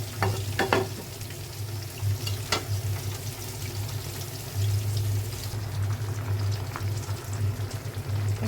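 Chopped garlic fries in a pan with a steady, fairly loud sizzle and crackle that runs throughout, with a few sharp pops and stirring clinks near the start and no voices.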